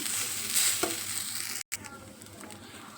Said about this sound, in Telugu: రైస్ వేసాక దాన్ని బాగా కలుపుకోవాలి, బాగా మిక్స్ చేయాలి.